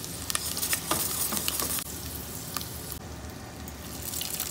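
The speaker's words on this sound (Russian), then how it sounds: "Я буду обжаривать сразу на сливочном масле." Halved or quartered mini potatoes fry in butter with thyme and rosemary, a dense continuous sizzle with crackling pops and occasional stirring, loud and close with no talk.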